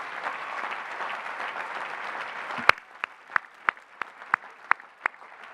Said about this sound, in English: Let's give them a huge round of applause for all they have sacrificed